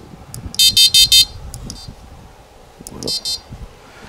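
An electronic carp fishing bite alarm gives bursts of rapid high-pitched beeping tones, first a run of four close beeps and later two more, standing out clearly over quiet handling noise.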